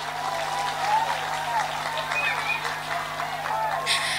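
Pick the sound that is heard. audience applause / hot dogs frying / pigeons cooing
audience applause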